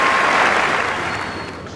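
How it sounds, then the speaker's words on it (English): Football crowd applauding at half time in a stadium, a broad sustained wash of clapping that fades gradually over its short length, with no voices on top. "The crowd showing their appreciation."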